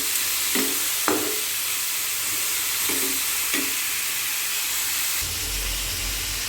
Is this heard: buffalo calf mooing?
no